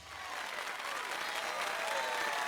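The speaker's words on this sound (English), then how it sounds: "Once more, please give a big round of applause for our talented participants." A crowd in Fire Emblem Three Houses breaks into applause at the White Heron Cup dance contest, clapping rising from a soft start into dense, sustained cheering clatter that continues to the end.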